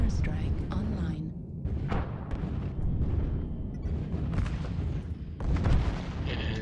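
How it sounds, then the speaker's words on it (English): Heavy airstrike explosions in MechWarrior Online rumble and boom in overlapping bursts with crackling debris, loud and close, while someone talks over the blasts. "Airstrike online."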